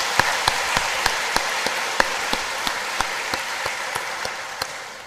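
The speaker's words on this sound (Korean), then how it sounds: "박수를 올려드리겠습니다." Applause from a church congregation at an anniversary Sunday service, steady dense clapping of many hands with sharper individual claps standing out, sustained throughout at moderate level.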